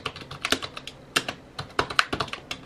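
Typing on an old computer keyboard with freshly repainted keys, a quick irregular run of close, crisp keystroke clicks with a few louder bottoming-out taps, no talking.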